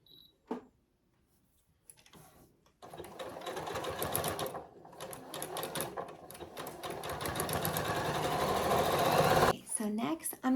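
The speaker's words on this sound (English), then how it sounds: "now I'm just gonna sew the bottom and the two sides" A sewing machine stitches the bottom and side seams of a handmade memorial tote bag, a steady loud whirring run of several seconds after a brief pause, stopping abruptly near the end.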